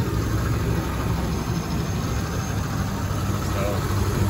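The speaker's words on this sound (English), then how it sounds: "My phone does pick up small engine valve train noise" A 2005 Chevrolet 2500HD 4x4 work utility truck with an 8.1L big block V8 idling: a steady, loud, even rumble with continuous mechanical clatter from the valve train and no break throughout.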